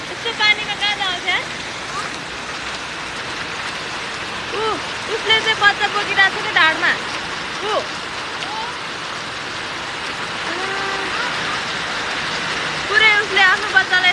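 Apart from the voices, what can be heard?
heavy rain falling in Kathmandu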